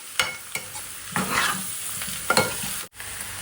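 Chilli powder being stirred into a spiny gourd curry in a pan, a spoon scraping and turning the pieces in a few close strokes over a soft sizzle, with sharp clinks against the pan.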